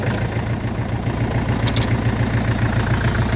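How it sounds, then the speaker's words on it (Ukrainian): An Orion 404 four-cylinder, 40-horsepower tractor engine runs steadily nearby with a loud, even, rhythmic chugging rumble throughout. "гарно працює, трактор на 4 циліндра 40 кінських сил"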